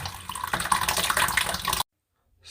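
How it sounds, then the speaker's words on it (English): Water gushes and splashes steadily from a toilet tank as the old fill valve is pulled up and out, a loud continuous spill that cuts off abruptly into silence. "I'm pulling up on the actual valve, and there's that water."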